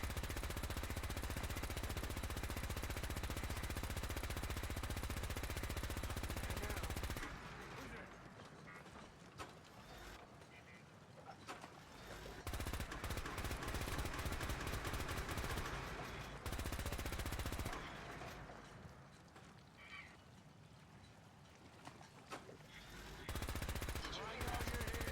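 Gunfire in the video game Fallout 4, loud sustained bursts of rapid shots alternating with quieter gaps, the bursts returning in several waves across the stretch.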